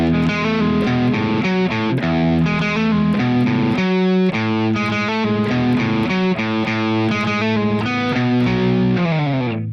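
Heavily distorted electric guitar plays an intro riff in standard tuning. Loud chugging power-chord hits and quick repeated notes run in a steady rhythm, with one brief pause near the middle, and no voices.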